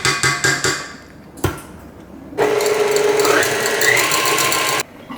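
Batter being mixed in a bowl with a whisk: a few short clattering knocks, a pause, then a steady mechanical whirring churn that runs for a couple of seconds before cutting off.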